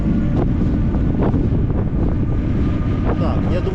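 Heavy wind buffeting the microphone while cycling uphill into a headwind, a constant loud low roar filling the whole stretch with no pause.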